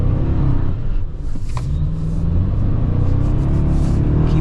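A pre-production 2024 Toyota Tacoma TRD Off Road pickup drives through desert sand, its engine rumbling loudly and steadily with a brief dip in power before pulling on, heard close from inside the cab.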